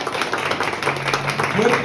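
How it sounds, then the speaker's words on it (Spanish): A church congregation breaks into dense, continuous applause, many hands clapping at once, with voices mixed in over the clapping. "Levante un aplauso al Señor, iglesia"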